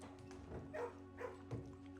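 Puppies in a kennel in the video game Blue Prince, giving a few soft yips and whimpering barks at irregular intervals, faint against a quiet background hum.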